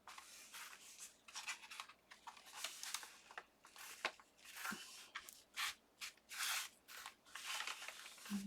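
Scissors trim sewing folio material in a quiet run of soft, close snips and papery rustles, irregularly spaced, with no voices.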